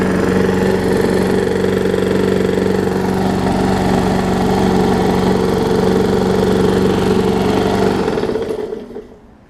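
A Murray big wheel lawn mower engine idles close by with a steady, loud, slightly uneven churn and a knocking fault, then winds down and stops at the end.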